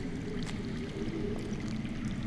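Underground water flows in the Game of Thrones Telltale game, a low, steady rushing and gurgling stream with faint trickling drips on top, continuous and moderately quiet, with no voices.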